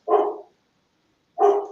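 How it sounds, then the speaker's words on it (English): A dog barks twice, about a second apart, each bark short, full and fairly close, with silence in between. "he just barked when his name was mentioned"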